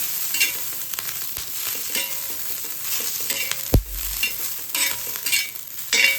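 Green chilies fry in oil over a low flame, giving a continuous close sizzle with occasional scraping stirs and a brief low thump partway through.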